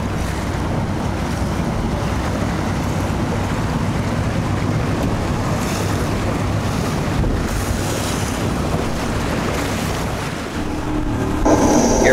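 A jet boat powering through white water on the Rogue River, with a steady roar of engine, rushing water and heavy wind buffeting the microphone, loud and continuous, swelling slightly near the end.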